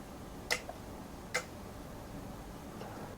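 Relays inside a Fosi ZA3 amplifier click quietly at power-on, two faint sharp ticks about a second apart over a low hiss, with a fainter tick afterward.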